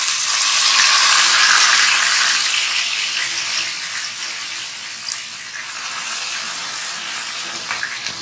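Grated bottle gourd frying in a pan with cardamom for lauki halwa, a loud broad sizzling hiss that eases off gradually, with occasional light stirring clicks close by and no talking.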